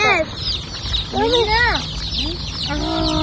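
A newly hatched chick, just out of its egg, peeps in bright rising and falling chirps close by. Soft voices and background noise run underneath.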